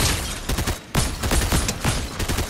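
Rapid bursts of gunfire from a PS5 shooter game fight, loud and dense, with repeated shots in quick clusters across the whole stretch.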